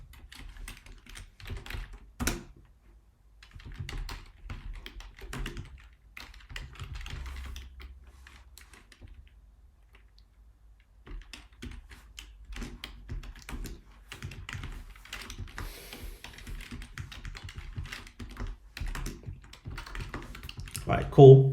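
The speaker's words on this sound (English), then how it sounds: "I'm just going to type out function and then request." Close, crisp keystrokes fall in irregular bursts and pauses as code is typed on a computer keyboard while building a SwiftUI news app, with someone talking quietly over parts of the typing.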